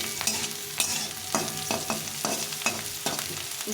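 Mixed vegetables fry gently on low heat in a pan for flattened rice (chira) pulao. Soft, steady sizzling runs throughout, broken by repeated scraping stirs of a spatula at a regular rhythm, close and without any voices.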